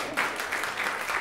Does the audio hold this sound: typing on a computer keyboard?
no